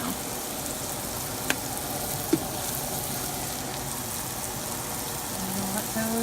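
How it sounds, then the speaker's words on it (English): Food sautéing in a hot pan, a continuous even sizzle like light rain with a couple of sharp clicks from utensils, steady and close. "I'm going to let those saute for a little bit."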